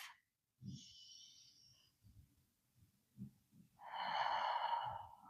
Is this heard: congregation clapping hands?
no